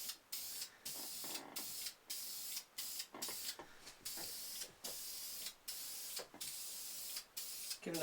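An aerosol can sprays paint onto a Sako Quad rifle stock in repeated short hissing bursts about half a second to a second long, close and fairly quiet, with brief pauses between passes.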